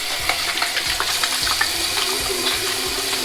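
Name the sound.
water splashing while washing face before shaving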